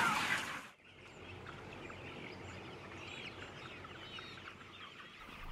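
Chickens in a broiler shed, birds 26 days old, cluck and chatter as a close, constant flock murmur, after a short burst of louder noise at the start.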